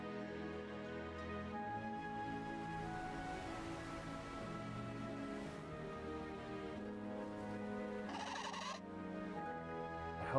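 A loud, rambunctious penguin calls in the game Ys X Nordics, its harsh squawking cries repeating over a steady musical background.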